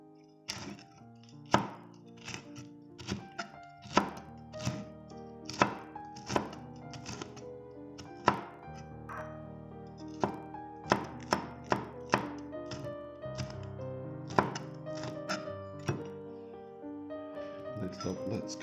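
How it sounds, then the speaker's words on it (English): A knife chops two small chilies on a cutting board in a run of sharp, close thunks, irregular at first and then quicker, over a soft background of music. "next let's cut up some chilies"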